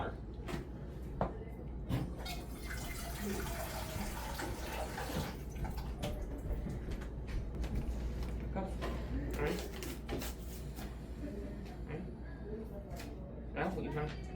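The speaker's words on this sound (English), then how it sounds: "Next, we fill this pot with water." Water running from a tap into a cooking pot in a kitchen, a soft splashing stream under a talking voice, with occasional clunks and knocks of utensils and cupboards.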